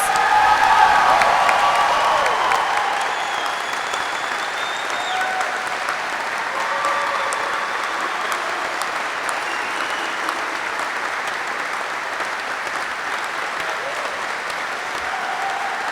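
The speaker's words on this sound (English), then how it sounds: "Please join me in a round of applause for the Army's newest aviation warfighters." Sustained audience applause fills a U.S. Army flight school graduation ceremony for new aviation graduates, a steady dense clapping from a large crowd that swells at first and then holds evenly throughout, with faint cheering mixed in.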